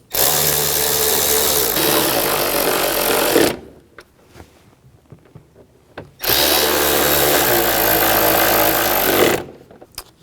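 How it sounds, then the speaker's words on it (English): A power drill drives in screws on the air filter housing of a 2007–2016 GMC Acadia, two loud sustained whirring runs of about three seconds each, separated by a brief pause with faint clicks. "And tighten down the screws."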